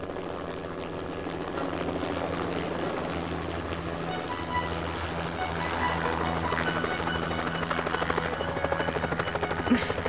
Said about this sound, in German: Auf einem Helikopterlandeplatz. Und was machen wir hier? Auf einen Helikopter warten.